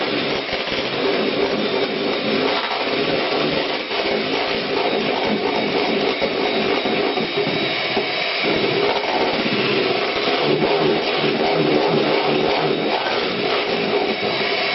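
An electric mixer whips a frothy foam mixture, running as a steady, loud, continuous whirring drone throughout with slight fluctuations in pitch and load, and no voices over it.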